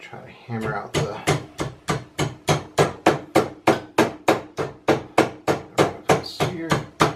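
A hammer beats on a metal flaperon nose rib for a Zenith Cruzer aircraft in a rapid, even run of roughly twenty loud, close ringing strikes.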